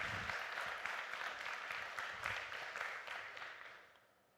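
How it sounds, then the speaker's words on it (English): Applause from a conference audience welcoming a design talk speaker, a steady wash of many hands clapping that fades out toward the end. "please have a round of applause for Duncan Lamb."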